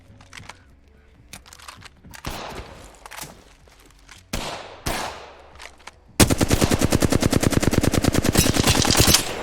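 Video game gunfire comes under attack: scattered sharp single shots and short bursts, then from about six seconds a loud, sustained rapid-fire automatic barrage.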